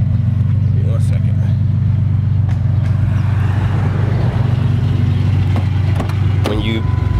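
A 1999 Ford Explorer Sport with a Dynomax exhaust idles in park, a loud, steady low rumble throughout, with people talking over it.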